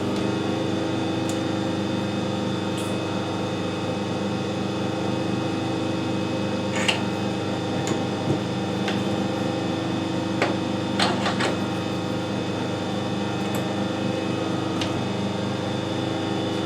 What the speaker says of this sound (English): we need to drill this out now